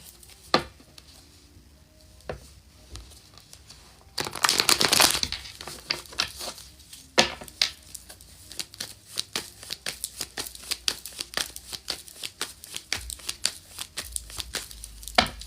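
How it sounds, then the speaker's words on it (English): Tarot cards shuffled by hand in sharp riffles and soft sliding crinkles, close and unaccompanied, with a dense burst of riffling early on, then a long run of quick snaps. "Let me shuffle these cards."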